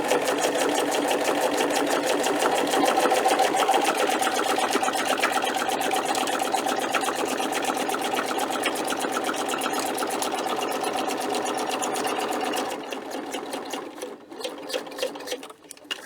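A sewing machine runs continuously stitching fabric for a custom book protector, a steady close mechanical whir with rapid needle rhythm for about twelve seconds before slowing into a few final stitches.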